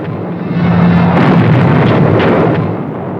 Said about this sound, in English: Nazi anti-aircraft guns fill the air with flak.